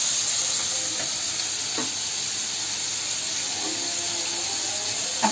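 Chili dropped into onions frying in a pan for a Marathi Pitrupaksha meal, a steady loud sizzle and hiss with occasional stirring scrapes, no voices.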